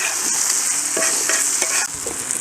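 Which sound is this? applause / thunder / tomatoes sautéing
tomatoes sautéing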